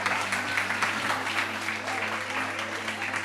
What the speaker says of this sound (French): On applaudit Safarel, s'il vous plaît.